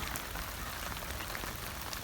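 Steady rain patters on a tent at a campsite, a dense, even hiss of drops with scattered sharper taps, moderately quiet and continuous with no voices.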